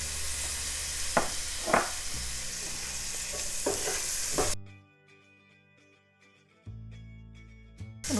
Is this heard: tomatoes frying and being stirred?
yes